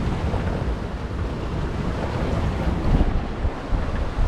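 Steady wind buffeting and rushing waves aboard a reefed sailboat offshore between the Azores and Madeira in roughly 17 to 18 knots of wind, a continuous broad hiss with occasional louder gusts.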